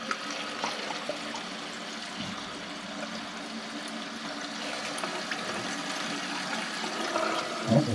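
Water steadily rushes and trickles into a newly installed toilet bowl as the supply valve is opened, a continuous close fill sound with no talking.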